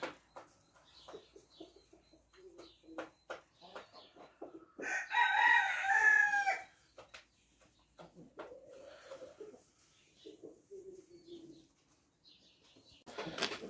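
Rhode Island hens and a rooster, with one loud, sustained crow standing out in the middle, surrounded by quieter clucks and short calls, and a person speaking softly at intervals.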